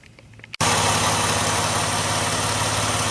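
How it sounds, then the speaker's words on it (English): A 2010 Ford Escape engine cranks and catches abruptly after quiet, then settles into a steady, loud, close idle hum with a constant rhythmic drone and no talking. "we can start the car and try it"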